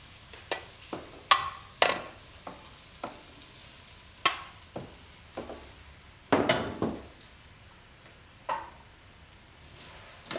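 Fish bones and vegetables sweating in a pot for white fish stock, a quiet soft simmer broken by a dozen or so sharp spoon-and-pot clinks and stirring scrapes at irregular intervals.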